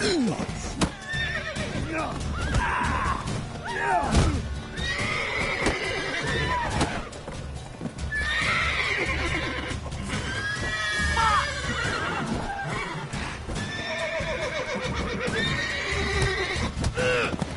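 Roach, a horse in a rainy video game scene, whinnies and neighs repeatedly while hooves clip-clop at a gallop, a steady rain-like wash underneath and a voice speaking briefly over it.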